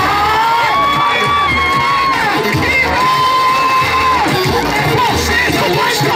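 Children's audience at a clown show in Mexico City cheering, shouting and whooping loudly and continuously at close range, a dense crowd of high young voices with music-like tones underneath.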